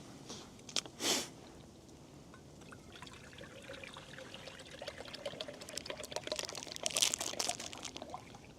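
Water poured outdoors in winter for boiling over a campfire, a steady trickling stream that builds and splashes louder toward the end, with a couple of sharp knocks early on and no talking.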